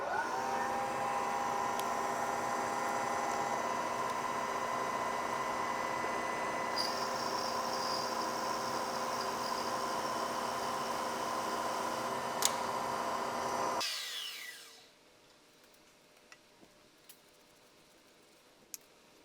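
A NIMS milling machine cuts a step block with a steady, tonal motor hum and faint ticking. It runs evenly for most of the stretch, then winds down to quiet with a couple of small clicks.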